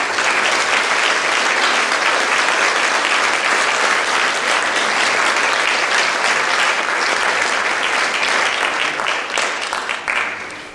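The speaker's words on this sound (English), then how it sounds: "let's give Deputy Mayor Vandermeer a warm round of applause." A crowd at a Holocaust remembrance ceremony gives a deputy mayor loud, sustained applause, many hands clapping densely and evenly for about ten seconds before tapering off at the end.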